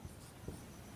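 A pen scratches briefly and faintly across paper during a math lesson, a quiet close-up stroke or two against low room noise.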